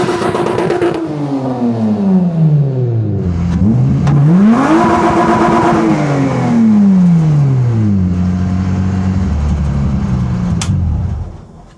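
A Honda Civic EG drag car with a swapped J35 V6 accelerates hard at wide open throttle, its loud, close engine note climbing steeply, dropping at each gear change and climbing again, with no voices.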